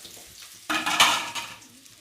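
A soft clatter as sliced raw plantain drops into a pan of hot oil with popped mustard seeds, followed by a burst of loud sizzling frying that gradually settles.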